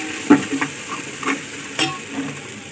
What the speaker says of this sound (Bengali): হলুদ গুঁড়াটা দিয়ে একটু নেড়ে দেবো